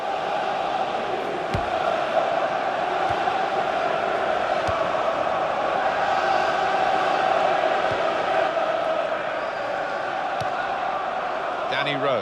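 A stadium crowd in FIFA 15 roars through a Premier League match between Tottenham and Leicester, a constant dense murmur of cheering heard under continuous commentary.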